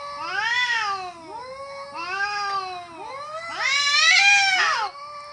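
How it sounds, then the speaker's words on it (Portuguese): Two cats caterwaul in close, loud, drawn-out yowls that rise and fall, three long wailing calls one after another with no voices around them. "Parecia esses dois gatos."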